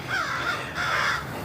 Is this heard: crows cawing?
yes